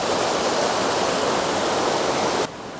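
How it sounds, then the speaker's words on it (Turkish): A cold mountain stream rushes steadily past at close range, a dense continuous wash of flowing water that drops slightly in level near the end, with no voices over it. "Yanınızdan böyle bir dere geçiyor. Buz gibi su geçiyor ya."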